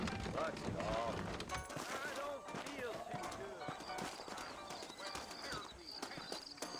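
Steady clip-clop of horse hooves at a walking rhythm, with people talking over the top, in the video game Red Dead Redemption (2010).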